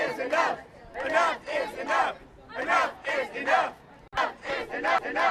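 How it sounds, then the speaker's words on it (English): A crowd of protesters shouts in repeated rhythmic bursts, a chant rising and falling about once a second, loud and close, with pauses between phrases. "they're all screaming at me as if I can hear anything they're saying"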